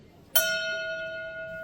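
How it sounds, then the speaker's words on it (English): A single bell strikes a memorial toll for a lost submarine at a veterans' meeting in San Diego, giving one sharp clear stroke that rings on, steady and sustained, in a quiet room. "Bell ringer, please strike a toll for the following boats."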